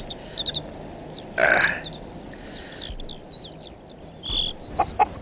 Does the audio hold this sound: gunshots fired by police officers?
no